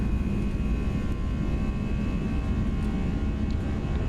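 An A320's engines roar at takeoff power in the X-Plane 11 flight simulator: a steady, loud jet drone with a sustained whine on top and no speech.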